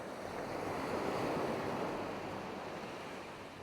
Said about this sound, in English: Yeah, this is a nice beach.